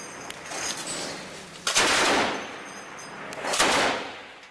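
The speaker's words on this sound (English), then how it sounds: "the Russian actor is seen shooting an automatic weapon towards Donetsk International Airport" Sustained automatic weapon fire aimed toward Donetsk International Airport, two long roaring bursts with swelling loudness and a short gap between them, heard outdoors without talk.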